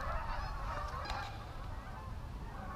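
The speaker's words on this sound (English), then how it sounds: "There's a bunch of ducks" A flock of waterfowl honking on a snowy day, a busy chorus of overlapping nasal calls at moderate distance over a low background rumble, with no talking.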